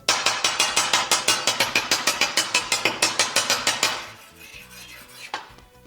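Knife scraping hard across a porcelain ceramic table, about twenty rapid rhythmic grating strokes, loud and close, then stopping as a few lighter knocks follow.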